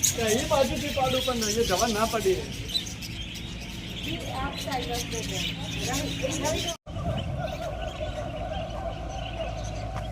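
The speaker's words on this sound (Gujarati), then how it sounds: "જો આ બર્ડ્સનો અવાજ આવે છે અત્યારે." Birds chirp and call repeatedly outdoors at Girnar, Junagadh, their quick twittering phrases rising over a background of talking voices and ambient hubbub.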